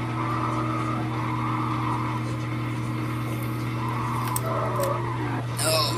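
A car slides sideways across the finish line in the racing game Need For Speed Carbon, a steady engine drone with tire skid noise and a brief squeal burst near the end, with someone talking over it.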